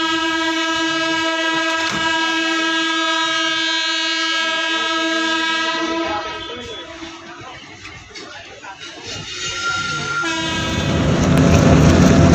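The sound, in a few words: train passing through railway station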